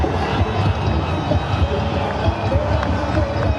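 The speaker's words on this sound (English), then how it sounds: "The roar in the crowd tell you all about that one" A cricket crowd at a Pakistan vs Sri Lanka T20 match roaring after a boundary, a broad, steady stadium roar with a commentator talking over it.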